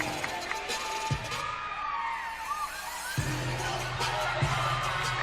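Crowd cheering and applause at a college gymnastics meet between Utah State and BYU, a sustained roar of the arena audience with sharp swells and whoops during a floor routine.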